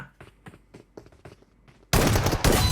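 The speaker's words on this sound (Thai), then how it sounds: "แต่ว่าลูกซองมันก็คือยิงทีละเยอะๆใช่ไหม" Shotgun fire in PUBG Mobile: a sudden loud, dense burst of gunfire erupts near the end after a run of quieter clicky handling taps, with no talking.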